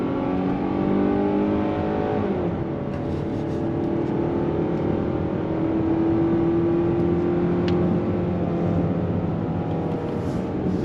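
A 2022 Hyundai Tucson XRT in sport mode accelerates hard, its engine note climbing steadily through the revs from inside the cabin, with a rising whine over a continuous road rumble.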